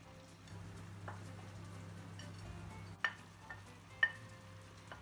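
Faint, steady sizzling of chopped onions, red peppers and green peppers frying in oil over a low hum, with a few sharp clinks of a utensil against the pan.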